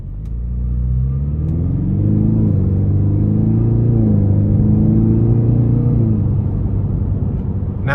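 A 2025 Ford Mustang EcoBoost with a 10-speed automatic accelerates in sport mode, its engine droning loudly and rising in pitch, then dipping briefly as it moves quickly up through the gears, heard from inside the car.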